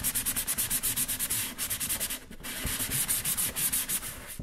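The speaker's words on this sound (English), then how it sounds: "So you get your sandpaper out." Sandpaper rubs rapidly back and forth over the rough edge of cardboard, close and rhythmic, with steady scratchy strokes and a brief pause midway.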